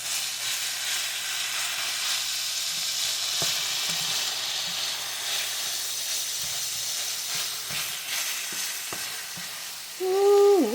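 Hot breakfast casserole ingredients sizzle and fry steadily in a pan, a continuous crackling hiss with occasional small clicks, ending with a brief louder scrape or squeak.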